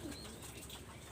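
A pair of flying pigeons, a Chuha and Golden cross, flap their wings in a busy, dense flutter that goes on steadily through the short moment, close and fairly loud with no speech.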